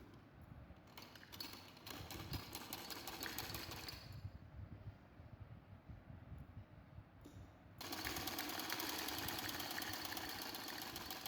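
A sewing machine stitches a baby frock in steady runs, its motor whirring with a rapid mechanical patter that pauses briefly and resumes louder, heard close and without talk.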